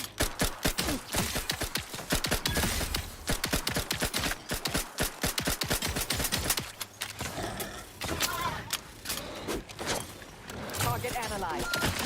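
Machine-gun fire in The Outer Worlds 2, sharp, rapid shots rattling in fast bursts almost continuously, loud and close, with a voice speaking over the shooting.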